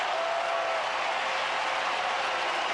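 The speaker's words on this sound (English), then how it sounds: "But listen to this crowd." A packed baseball stadium crowd roars steadily for the Houston Astros during extra innings of a 2005 NLDS playoff game against the Atlanta Braves, a dense, continuous wash of cheering with no talk over it.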